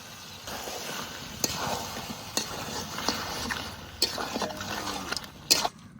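Mutton with fried onions is sautéed in a pan over low heat, giving a soft, steady sizzle and bubbling, with several sharp scraping and clattering strokes from stirring, close and fairly quiet.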